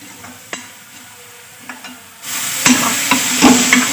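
Masala with a little water cooks in a kadhai for a zucchini sabzi: soft stirring scrapes at first, then a louder, steady sizzle from midway with spoon scrapes, no talking.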